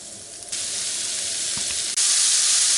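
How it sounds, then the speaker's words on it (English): Sausage pieces browning in a hot pan give off a steady, fairly loud sizzle, which grows louder in two steps partway through, with no voices. "I'm going to take my sausage, which I made into smaller pieces, and I'm going to brown that up."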